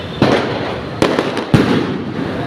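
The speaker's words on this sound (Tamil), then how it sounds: "இப்போ மேலே நல்லா பட பட படம் அடிக்குது எல்லாம் மொட்டை மாடியிலேருந்து சில பேர் அடிக்கிறாங்க பட்டாசு" Three sharp firecracker bursts set off from rooftops around a bus stand neighbourhood, spaced about half a second apart over a steady hiss of crowd and street background, loud and fairly close.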